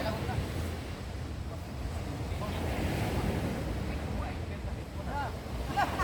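Wind gusting by the sea beside a small boat, a steady broadband roar with surf wash underneath and faint voices in the background.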